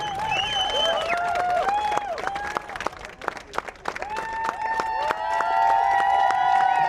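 An audience applauds at a drift event prize ceremony, steady clapping from a crowd outdoors with a raised announcer voice and engine tones or whistles ringing over it, moderately loud and continuous.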